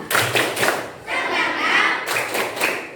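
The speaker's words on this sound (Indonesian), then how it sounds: "Coba Bu Guru cek semangatnya. Tepuk semangat." A school class doing a rhythmic spirit clap, several patterned bursts of claps and thumps in a steady beat with short pauses between groups, while voices chant along.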